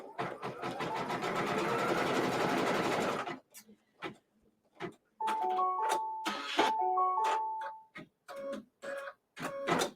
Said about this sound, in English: now we're just going to stitch this down